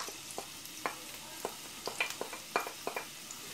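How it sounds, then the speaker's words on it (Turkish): Onions going into heated oil for a potato and cabbage pickle sauté, a soft background sizzle punctuated by irregular stirring clicks and scrapes of a utensil in the pan, close and fairly quiet with no speech. "Şimdi ısınan yağımıza soğanlarımızı ilave ediyorum."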